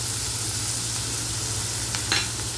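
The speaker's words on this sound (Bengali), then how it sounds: "টমেটো আর আদাটা অল্প নাড়াচাড়া করে ওর মধ্যে একটু নুন দিয়ে দেবো" Tomato and ginger fry in a pan for a vegetarian paneer dish, giving a steady soft sizzle with a few brief scraping stirs near the end over a low hum.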